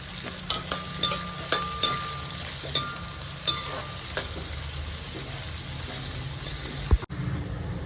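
Onion, carrot and green chillies sauté in a pan for wheat sooji upma, a constant crackling sizzle broken by regular spatula scrapes and taps against the metal. A sharper knock lands near the end.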